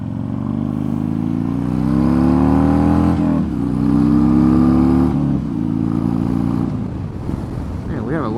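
A Harley Davidson Dyna motorcycle engine drones loudly while riding, a deep steady rumble with rising pitch as it accelerates through gears, a brief dip between shifts.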